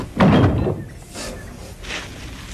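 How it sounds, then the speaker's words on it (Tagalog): A house door swings open in a Filipino radio drama, giving a loud, close clunk and rattle at the start, followed by softer scraping and a faint knock as it settles, with no voices over it. "Mang Ben, bubuksan ko po ang pinto."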